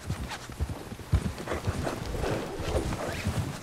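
Horse hooves clip-clop in an irregular walking rhythm in the video game Red Dead Redemption 2, with a few sharper thuds and faint shuffling under a noisy game soundscape.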